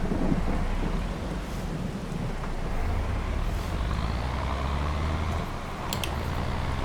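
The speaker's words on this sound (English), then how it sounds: "But that rain is really coming down now." Heavy rain pours down in the farming game Farming Simulator 22, a dense, continuous roar with low rumbling like wind or distant thunder underneath, steady and fairly loud throughout.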